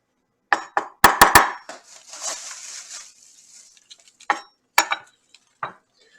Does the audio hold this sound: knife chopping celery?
yes